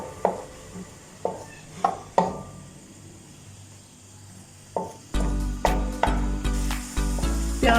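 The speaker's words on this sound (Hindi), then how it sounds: "प्याज जो छोटा छोटा चॉप करके रखा हुआ था वो डाल देना हमने। अब इसको थोड़ा सा सोते कर लेना हमने।" Finely chopped onions hit a hot pan with a sudden loud sizzle after several sharp knocks of a utensil against the pan rim, then keep frying under repeated close stirring scrapes and taps.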